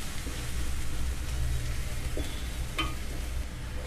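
A spiced mixture with garam masala for bread cutlets fries in a pan, giving an even, continuous sizzling hiss with a couple of brief spatula scrapes near the end.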